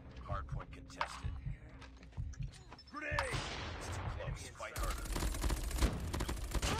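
Rapid gunfire bursts from a Call of Duty-style Hardpoint match in a shooter video game, loud crackling volleys that intensify and sustain near the end, with game effects and a player talking over them.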